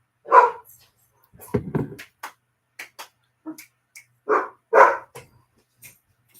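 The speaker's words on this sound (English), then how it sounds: "my dogs are losing their minds" Several dogs bark in a backyard, with irregular bursts of barks and yips, some louder and some more distant, scattered across the stretch with short gaps between them.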